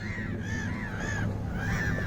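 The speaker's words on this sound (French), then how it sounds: "Le cri des mouettes dans un concert si beau" Several gulls cry in repeated drawn-out calls at Sirmione on the shore of Lake Garda, moderately near over a steady background wash.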